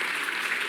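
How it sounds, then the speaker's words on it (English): Audience at a PAX Prime 2015 convention panel applauds, dense steady clapping from a full room that fills the whole brief moment. "Yeah, you can applaud for castles."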